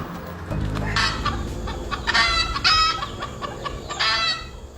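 Several red junglefowl clucks and crowing calls ring out in bursts over a steady low rumble, fairly close and loud.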